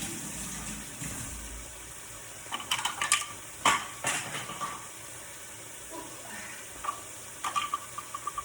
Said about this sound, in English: So keep stirring. So all you're looking for is your meat to go brown.